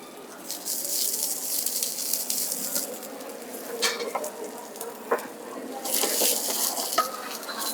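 Onions sautéing in a pan for millet noodles, a steady soft sizzle with scattered crackles and stirring scrapes, louder bursts near the middle and end, with no talking.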